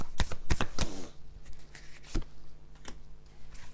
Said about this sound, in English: I'm just taking a couple of cards from the Light Seers Tarot to clarify for you.